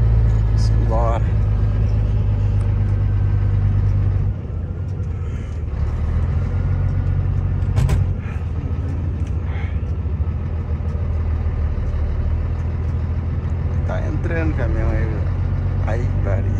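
A truck engine rumbles steadily from inside the cab as it drives, a loud low drone with slight shifts in load, while someone talks intermittently over it.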